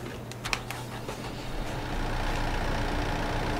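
A skid steer idling in Farming Simulator 22, its diesel engine a steady low rumble that swells a little louder partway through, with a few faint clicks near the start and no talking.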